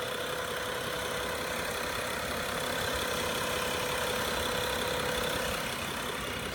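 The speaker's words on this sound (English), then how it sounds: "inline 6-cylinder, produces 300 horsepower and 300 pound-feet of torque" A BMW 535i xDrive with a 300-horsepower single twin-scroll turbo inline six idles steadily just after startup. The engine gives a smooth, even hum at constant level with no voices.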